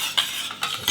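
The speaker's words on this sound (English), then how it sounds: "Now let me add the oil. I'm just gonna mix it up here." A whisk or spoon stirs shallot vinaigrette of vinegar and light olive oil in a bowl, making brief scraping, swishing strokes, close and fairly soft, with no voices.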